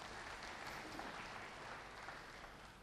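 A church congregation claps for Jesus Christ during a sermon, a faint, distant, even wash of many hands that continues without pause and without voices.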